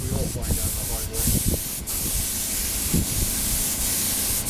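Spray gun laying a first coat of white paint onto a motorcycle part, a steady close hiss running without a break, with faint low background noises underneath.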